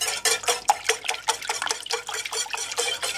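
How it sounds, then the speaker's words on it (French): A whisk or spoon stirs a honey, sugar and orange-blossom-water curd sauce in a pan over low heat. It makes quick, rhythmic scraping and swishing strokes, close and clear, with no talking. "Je remue jusqu'à ce que la sauce épaississe et devienne nappante"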